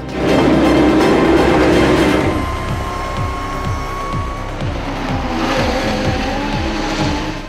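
A loud, steady engine roar from a race car, shifting into a rapid pulsing rhythm as it revs and pulls away, with no voices.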